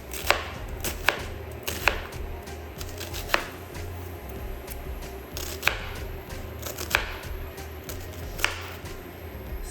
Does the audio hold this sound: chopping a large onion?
yes